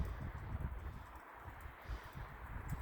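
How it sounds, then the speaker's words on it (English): Wind gusts through trees and bushes outdoors, a steady broadband rustle of agitated leaves with heavy low rumble of wind buffeting the microphone, rising and falling throughout with no one speaking. "the wind is gushing and the trees are like all agitated all of a sudden"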